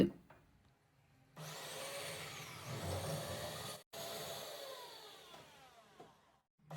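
An electric coconut grater machine shreds coconut in a home kitchen, giving a steady loud motor whine with a rough grinding edge that runs for several seconds, cuts out briefly, then resumes before stopping.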